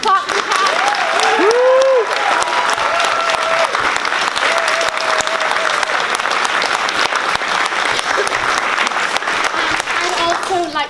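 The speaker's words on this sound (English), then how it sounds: "Come on, clap the cast." A theatre audience applauds the cast of an Alice's Adventures in Wonderland stage production, with loud, dense clapping sustained throughout, some whoops and cheers rising over it.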